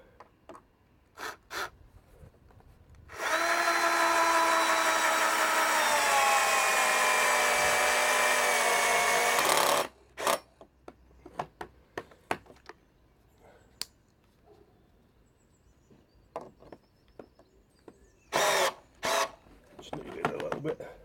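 A power drill drives a long screw into a wooden carport rafter in one sustained high whining burst of about six seconds, with scattered clunks and brief talk before and after.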